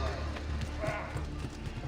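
Horse hooves clip-clopping in Assassin's Creed 2, a steady galloping rhythm of hoofbeats under constant game noise and someone speaking.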